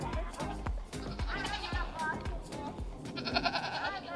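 Nigerian Dwarf goats bleat repeatedly and close by in wavering, overlapping cries, mixed with a person's speech and other farmyard sounds.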